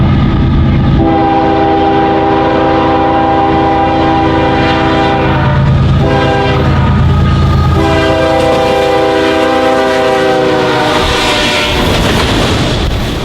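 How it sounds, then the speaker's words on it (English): Canadian Pacific auto rack freight train led by a single GE locomotive approaching on a Detroit to Kansas City main line, its horn sounding in long loud blasts over the steady rumble and clatter of the rolling cars. "we observe the approaching Canadian Pacific Auto Rack number"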